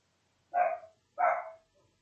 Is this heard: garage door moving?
no